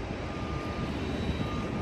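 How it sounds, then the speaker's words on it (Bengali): A Saudi Airlines airliner landing at London Heathrow gives off a steady, broadband engine roar that holds level and fairly loud, with a faint high whine running through it. "সাউদি এয়ারলাইন্স এটা ল্যান্ড করতেছে"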